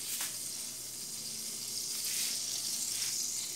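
Margarine sizzles in a hot pan while polenta is being prepared: a steady, close hiss with a bright crackle that holds without a break.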